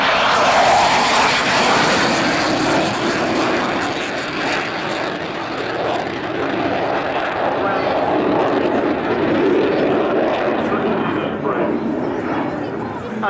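A propeller-driven aircraft passes loudly at the Middle Wallop airshow, its engine drone swelling and fading across the crowd, with a dog barking and people talking nearby.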